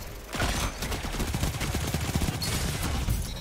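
Rapid, loud weapon fire in a Destiny 2 match, a dense stream of sharp repeated shots with heavy low-end punch, continuous throughout with no talk.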